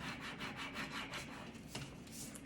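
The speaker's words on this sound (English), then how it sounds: "So I'm just gonna scrape my H." Scraping a vinyl letter H onto transfer tape for an Easter garland, a close, steady rhythmic rubbing and scratching with repeated strokes, heard alone.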